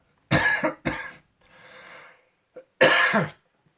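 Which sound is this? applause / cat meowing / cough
cough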